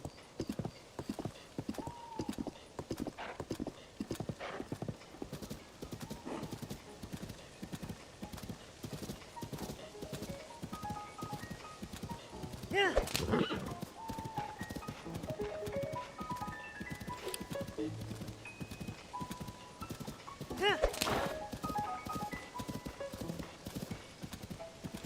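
Horse hooves clip-clop in a steady, rapid rhythm in Zelda: Tears of the Kingdom, with two brief loud neighs breaking through the galloping and faint game music underneath.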